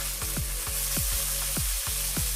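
Meat for japchae sizzles in a hot frying pan, a steady loud crackle and hiss up close, broken by repeated scraping knocks as it is stirred, with no talking.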